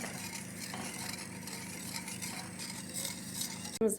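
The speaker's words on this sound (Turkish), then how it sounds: "Şimdi bunların hepsini karıştırıyoruz" Wet cake batter is stirred together in a bowl, making a continuous soft scraping and swishing close by, alone, with a sharper clink at the very end.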